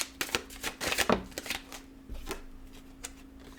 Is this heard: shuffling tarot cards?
yes